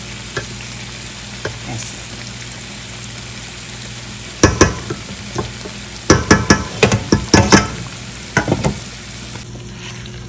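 A spoon stirs kebab curry in a pan with oil separated from the masala, giving a soft steady sizzle and bursts of loud scraping and clanking strokes, clustered in quick runs toward the end, close by.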